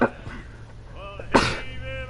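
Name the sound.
sneeze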